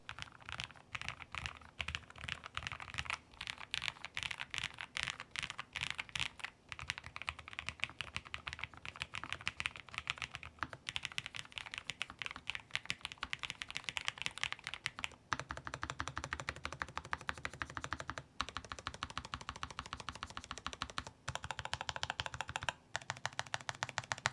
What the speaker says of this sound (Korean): 소리 비교 타건 한번 들려드릴게요